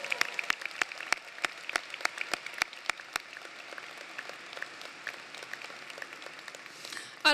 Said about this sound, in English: let's thank these amazing teachers one more time with our applause